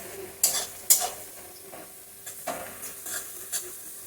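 Sliced onions frying in a pan for beresta, the crispy fried onion garnish for chicken dum biryani. There is a soft steady sizzle, with several sharp clinks and scrapes of stirring spaced through it.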